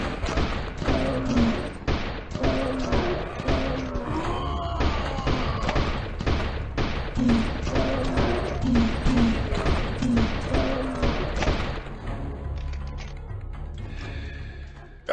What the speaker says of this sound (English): Oh, the sniper rifle feels good.